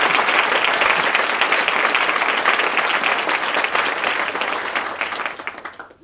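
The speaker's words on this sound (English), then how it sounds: "let's have a big round of applause." A crowd at a community gathering applauds loudly and continuously, a thick wash of clapping that holds steady and tails off abruptly at the end.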